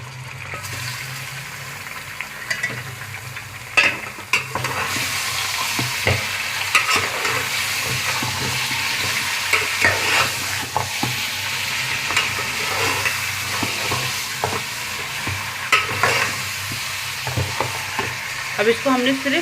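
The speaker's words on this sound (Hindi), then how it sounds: "अब इसको हमने सिर्फ 2 मिनट अच्छी तरीके से भूनना है" Mutton pieces fry with pinkish browned onions in a pot for a mutton stew, a loud, continuous close sizzle broken by frequent scraping and stirring knocks.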